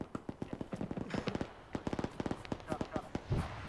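Rapid bursts of gunfire from ArmA 3 combat, a string of sharp shots in quick succession with short pauses, close and fairly loud, while a voice talks over part of the shooting.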